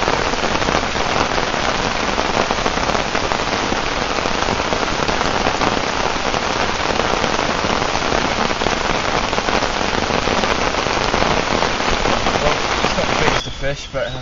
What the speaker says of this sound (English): hopefully next time I make a video it's not raining so hard